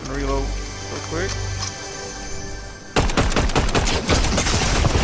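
Rapid laser gunfire from Fortnite bursts out in a dense, loud rattling stream during the second half, after a stretch of game sounds and a voice talking.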